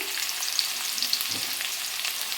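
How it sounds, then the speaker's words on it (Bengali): Pumpkin pieces frying in a pan give off a steady close sizzle with a few soft stirring knocks, heard alone without any talk. "আরও কিছুক্ষণ কুমড়াটা একটু ভেজে নেব।"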